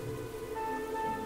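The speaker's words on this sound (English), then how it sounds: "a forest where it rains every day" Rain falls steadily in a forest where it rains every day, a faint, even patter with no voices.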